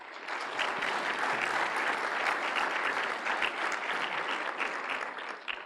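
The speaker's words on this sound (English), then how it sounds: "So please give them a round of applause." An audience at a graduation ceremony for the E-Club Class of 2012 breaks into sustained applause, dense clapping from many hands rising quickly and holding steady for several seconds before tapering, with no speech over it.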